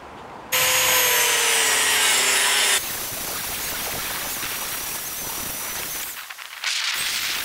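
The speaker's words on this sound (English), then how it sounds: "I'm gonna grind a flat spot in the pole." Power grinder cutting a flat spot into a wooden mahogany pole, a loud steady high whine lasting about two seconds, then a softer rough rubbing grind that continues.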